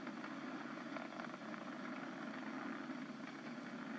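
Falcon 9 rocket engines during ascent, throttled down for maximum dynamic pressure: a steady, broad, distant roar that holds evenly throughout with no breaks or talk.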